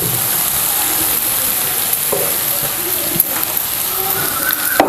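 Mashed potato being stirred in a hot pan for vada pav filling, with a steady close sizzle and scraping stirs throughout.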